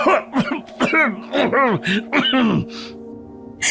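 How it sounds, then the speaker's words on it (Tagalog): A person close by coughs repeatedly in hoarse, strained bursts with groaning breaths between them, then falls quiet. "Mas lumalala po ang ubo ninyo."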